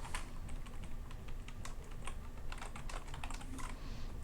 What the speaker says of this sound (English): So I'm just going to type this out quick